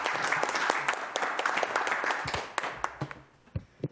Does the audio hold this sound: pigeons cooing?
no